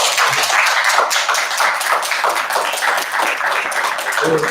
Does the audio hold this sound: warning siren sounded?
no